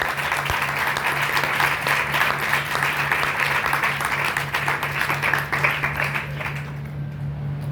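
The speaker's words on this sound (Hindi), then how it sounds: "मैं सभी बच्चों से अनुरोध करता हूँ कि तालियां बजाकर इसका अभिनंदन किया जाए।" Students at an ITI convocation ceremony applaud together, a sustained, even wash of clapping from a large group that holds steady before tapering off, with a low electrical hum underneath.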